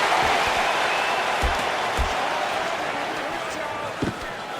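A fight-event crowd roars with sustained, broadband cheering for the full few seconds, steady and loud with a few low thumps underneath.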